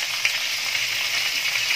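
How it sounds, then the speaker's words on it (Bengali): Pointed gourd (potol) with turmeric frying in a pan, a continuous even hiss of sizzling oil that holds steady and close throughout, with no voices. "পটলটাও একইভাবে একটু লাল লাল করে ভেজে নেব।"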